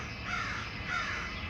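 A crow calls twice, two separate raspy caws about half a second apart, heard alone against constant outdoor background noise.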